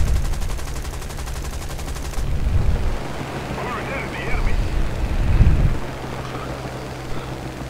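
Bursts of gunfire striking a plane in War Thunder, an aerial combat video game, with heavy low thuds and crackling impacts rising over a steady engine drone, loudest in two clusters mid-clip.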